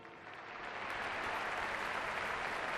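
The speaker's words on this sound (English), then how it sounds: "Sounded like a lot of applause in there to me." Applause rises from a film soundtrack during a movie scene, a faint but steady wash of clapping that builds slightly and holds evenly without speech.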